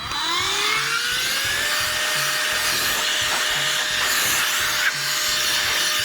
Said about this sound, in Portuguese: pega o soprador, que o link tá aí na descrição